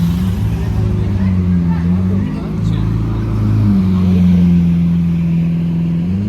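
A Lamborghini Aventador's engine hums low and steady nearby, its pitch dipping and rising once as it revs, with people chattering over it.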